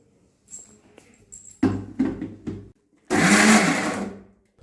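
Mixer grinder whirring as it blends boiled soybeans into a soya mince, three short pulsed bursts followed by one longer, loud continuous run, close and without talk.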